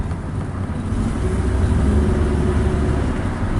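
A 2006 Mitsubishi accelerating with its steering shaking, giving a steady, loud engine and road rumble that swells slightly as revs climb, close and continuous without speech.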